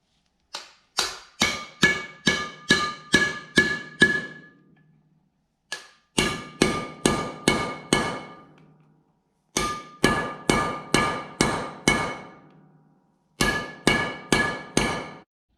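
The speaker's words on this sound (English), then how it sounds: "We'll take this brass punch, tap them in there as much as we can" A brass punch taps wheel studs into the rear hub of a GMC 3500 dually in four bursts of sharp, ringing metallic strikes, each burst a quick series of about six to eight close, loud blows with short pauses between.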